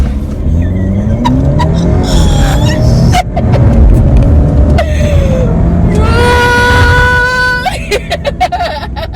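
Alfa Romeo Giulia engine held at about 2,000 RPM against the brakes, then launching, with a loud steady drone that climbs in pitch as the car pulls away. People talk over it in a close in-car setting.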